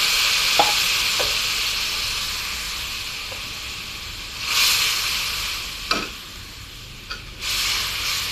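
A pan of spice paste sizzles softly in oil with occasional stirring clicks, then bursts of louder hissing flare up as a little water hits the hot paste.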